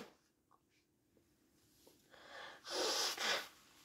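A quiet stretch with small breathy noises, then a loud burst of two close, sharp nasal blasts like a sneeze or nose blow near the end.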